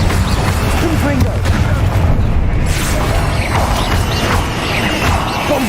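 A Confringo spell bursts in Hogwarts Legacy as a loud, heavy boom with crashing debris over dense game noise, and a voice speaks over it.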